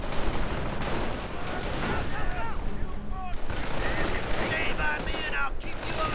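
Rapid bursts of machine gun fire crackle continuously through a World War II strategy game battle, with grenadiers in the fight, steady and dense throughout amid other battlefield noise.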